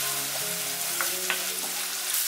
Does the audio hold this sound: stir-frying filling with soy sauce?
yes